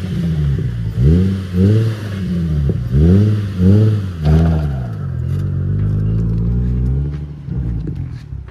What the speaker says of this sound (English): Let me go ahead and get the Z up in the driveway